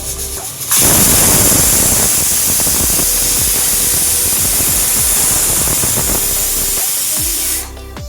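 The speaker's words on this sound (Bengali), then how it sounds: "একটা সিটি উঠে গেছে, আরেকটা এখন উঠবে।" A pressure cooker whistle vents steam while mutton cooks, a loud steady hiss that bursts on abruptly, holds strongly for about seven seconds, then cuts off, with faint kitchen clatter underneath.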